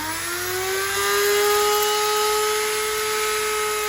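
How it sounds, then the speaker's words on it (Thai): Power drill boring holes through the bed and chassis of a scale model dump truck: a loud, steady motor whine that rises in pitch as it spins up, then holds constant. "มาเจาะแบบนี้ครับ"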